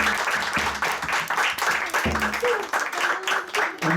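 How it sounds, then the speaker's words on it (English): A small group of people clap at a Hare Krishna kirtan housewarming in a Scarborough, Ontario home, uneven and fairly close, with voices talking over the clapping. "So we'll clap for Maharaj"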